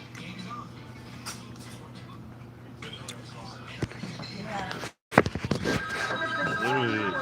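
A telephone rings in a Wyoming radio studio during a morning call-in broadcast, its tone mixed under steady talk and followed by more voices.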